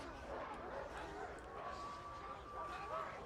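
Dogs barking and yipping amid the busy sounds of combat in the video game Warhammer 40,000: Darktide, running steadily over a dense game mix with voices talking throughout.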